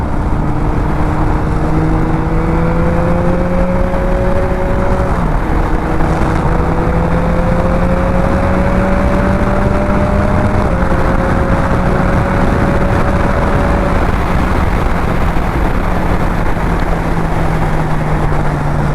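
A 2021 Yamaha MT-09 fitted with a Puig windscreen rides into a headwind: loud, steady wind roar over a droning engine whose pitch climbs gradually through the gears, with no talking.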